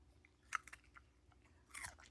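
A dog crunches on a piece of raw cabbage, a few sharp, close bites and chews spaced over two seconds in an otherwise quiet room.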